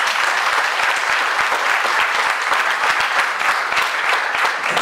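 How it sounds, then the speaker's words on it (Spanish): A church congregation applauds during a Spanish-language sermon on faith and healing. The clapping is dense and steady, filling the room evenly for the whole stretch, with no talk over it. "Denle un aplauso al Señor por eso."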